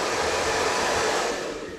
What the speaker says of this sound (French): Et on va utiliser un sèche-cheveux.